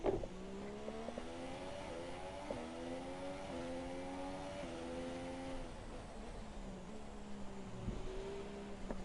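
A race car engine in a PS4 racing game drones at moderate level, its pitch holding, dipping under braking and rising again under throttle, alone without talk.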